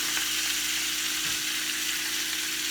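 Chicken thighs browning in a pan, a steady close sizzle running evenly throughout with no talking over it.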